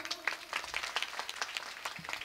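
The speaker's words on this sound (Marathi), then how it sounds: "एकदा टाळी वाजवा." An audience at a village kirtan gathering claps, quiet and distant, a short scattered patter of hands lasting about two seconds.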